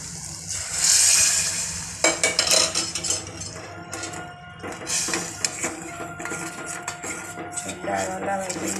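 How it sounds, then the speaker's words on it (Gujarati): Cooked dal is poured into a hot tempering of spices and red chilli in a pan and stirred, with a loud sizzling burst followed by scraping and clinking of a spoon against the pot. "હવે એમાં દાળ નાખીશું।"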